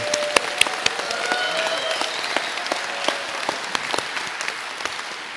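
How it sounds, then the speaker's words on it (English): Audience applause for graduates at a university commencement ceremony, a sustained wash of clapping with sharp individual claps popping out of it, steady in level throughout and not overlaid by speech. "Why don't we give them a round of applause for them?"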